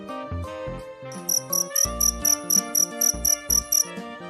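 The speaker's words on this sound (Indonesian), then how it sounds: "jangkrik." A cartoon cricket chirps in a rapid, regular run of about a dozen short, bright pulses over a playful children's animation music track, with no talking.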